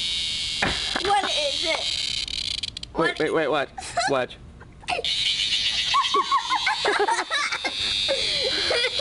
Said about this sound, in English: That's a cicada.